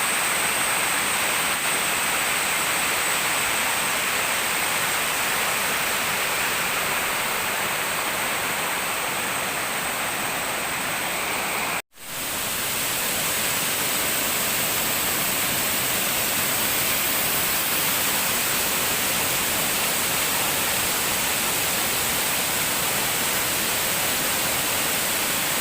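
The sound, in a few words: stream water flowing over rocks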